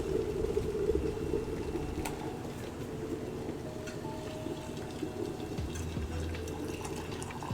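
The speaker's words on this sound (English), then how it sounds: "and then you start hearing it boil." A kettle heating water in a home kitchen, with a steady low rumbling and hissing as it begins to boil, continuous and fairly close, alone without talk.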